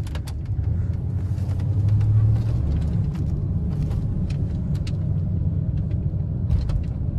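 A 1994 Ford F250 XLT HD pickup cruising down the road, its steady engine and tire rumble loud and continuous from inside the cab, swelling slightly midway, with no one talking.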